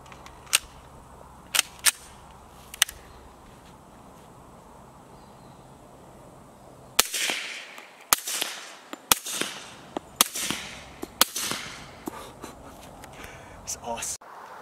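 Suppressed subsonic 230-grain .45 ACP rounds fired outdoors, a string of sharp muted cracks, a few spaced out early and then a quicker irregular volley, fairly close.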